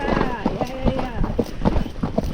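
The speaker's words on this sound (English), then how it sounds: "So we're going uphill on a trotty horse, so that makes them more fox trot." A gaited Marchador cross horse trots uphill on a Mt. Madonna trail, its hooves clip-clopping in a steady, uneven rhythm close by, with a person talking over the hoofbeats.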